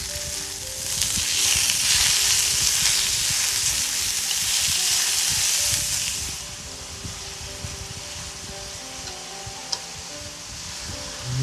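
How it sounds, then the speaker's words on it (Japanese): Ground meat and green onion stir-frying in a pan, a loud hissing sizzle for about six seconds that then drops to a quieter simmering crackle with faint scraping. "ひき肉を入れて炒めてまいります。"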